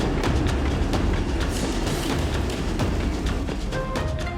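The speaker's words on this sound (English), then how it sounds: "Da Nang is a terminus station, so the engine has to be coupled onto the other end of the train." A train at Da Nang terminus station on the Reunification Express in Vietnam, where the engine is coupled onto the other end. A loud, steady rumble with sharp metallic clanks and bangs scattered throughout is heard up close, with no talking.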